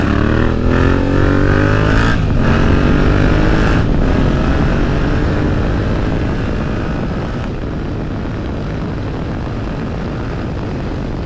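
A Beta 125 dirt bike ridden on a greasy road with its wheels slipping. The engine is loud and close, revving hard in rising bursts before settling into a lower, steady drone.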